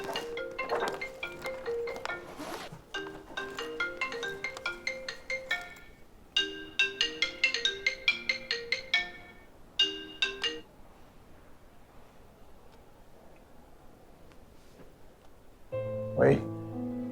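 A melodic phone ringtone for an incoming call plays in repeated bursts of bright electronic tones, then fades into quiet room ambience before a short low sound near the end.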